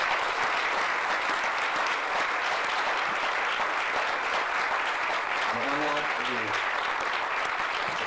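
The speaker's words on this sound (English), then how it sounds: "give a round of applause to the faculty members and the recipients of the Alumni Awards" Sustained, steady applause from a large crowd at a school awards ceremony honoring faculty and alumni award recipients, even and continuous throughout, with faint voices briefly audible underneath.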